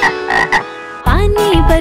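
A cartoonish frog croaking within a Hindi children's rhyme, several bright, pitched croaks in a bouncy rhythm followed by a long, swelling croak, loud and close over light musical backing.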